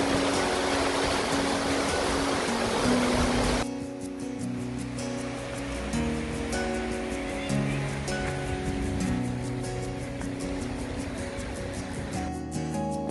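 Fast-flowing water in the Lake District rushes loudly and steadily at first, then drops to a softer continuous wash while music plays over it.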